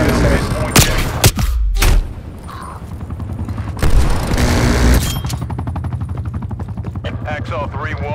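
A Semtex grenade blast booms amid gunfire in a Call of Duty Black Ops Cold War team deathmatch, with loud bursts early on followed by ongoing battle noise and game voices.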